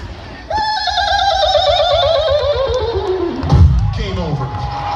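A voice imitates a descending Atari game-over tune, a wavering tone sliding steadily downward for a few seconds before a breathy drop at the end.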